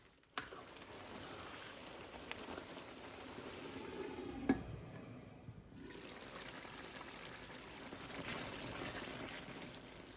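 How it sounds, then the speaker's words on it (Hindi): Ground tomato pours into a cooking pot holding bottle gourd, part of a chicken ghiya gosht, a soft wet trickle and pour that runs steadily under a continuous low sizzle, close and moderately loud, with no talking. "ये पिसा हुआ टमाटर भी डाल लेते हैं।"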